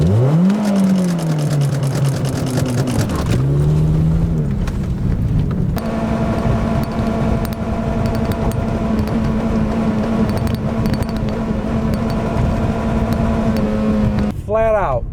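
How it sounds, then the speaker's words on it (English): A 2007 Toyota Corolla engine revs in neutral, with two quick rising-and-falling revs followed by a long steady high-idle drone and a final blip, loud and close. "What if I rev bounce it on neutral and play with the shifter before it has time to get into gear?"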